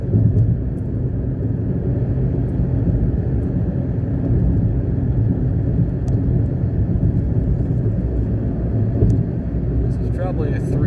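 A Mitsubishi Mirage engine drones steadily while climbing a steep mountain road, a constant low cabin hum and road rumble holding around mid revs, with occasional faint clicks.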